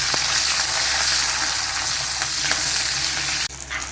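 Garlic and small shallots sauté in a pan for a pakoda kuzhambu, giving a close, steady, dense sizzle that runs throughout and shifts abruptly just before the end.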